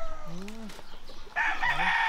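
Chickens clucking close by, a few short rising calls over a hissing background.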